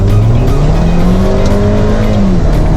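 A Mercedes-Benz GLB 250 petrol car accelerating hard, its engine note rising steadily as it revs through the gears, loud and close with a constant rumble and a slight tyre squeal.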